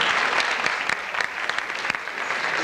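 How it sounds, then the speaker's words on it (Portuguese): A steady, dense round of clapping from the audience at a 2000 bodybuilding championship honors a celebrated sportsman, holding at an even level for a few seconds. "E eu gostaria de uma salva de palmas para ele aqui."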